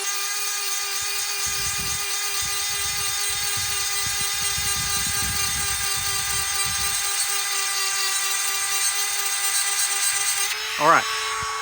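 A grinder cutting into the gullet of a saw blade gives a steady high whine with a rough grinding texture, close and continuous, while a voice talks through the middle and the tool winds down at the end.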